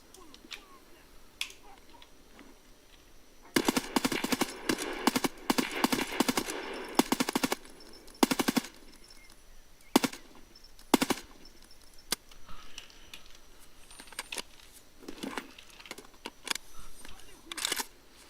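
Suppressed gunfire in the Escape from Tarkov video game comes in sharp, clipped bursts of rapid snapping shots, with quieter scattered pops between them. A voice talks faintly underneath.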